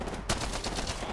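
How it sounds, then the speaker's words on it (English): Gunfire in the video game Apex Legends, a dense rapid burst of shots with a sharp crack at the start, loud and continuous throughout. "I shot him for loads."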